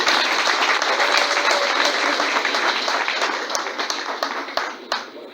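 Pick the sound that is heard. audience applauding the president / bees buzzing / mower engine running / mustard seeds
audience applauding the president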